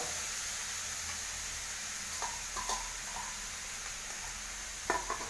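Crushed coconut, garlic, cumin and turmeric stirred in a hot pan for kaathoran, a soft steady sizzle with a few light scrapes and a sharper clink near the end, fairly quiet.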